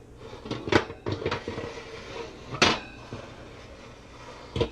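Metal oven rack clanks and slides as it is moved inside an oven while shrimp cocktail is prepared, a series of sharp close rattles and knocks with pauses between them.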